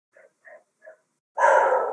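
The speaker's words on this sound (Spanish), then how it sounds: "perdón por mi perro" A dog gives three short, soft yips in quick succession, then one louder, longer bark, heard close and with no talk over it.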